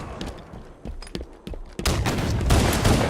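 A rocket launcher fires in a video-game battle: scattered sharp shots and thuds build into a loud, dense barrage of rapid blasts and gunfire that continues without pause.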